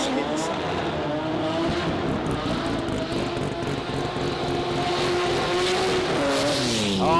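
A rotary-engined sports compact drag car at a racing jamboree, its loud engine droning steadily while tires squeal in rising and falling whines near the end, heard from trackside over crowd noise.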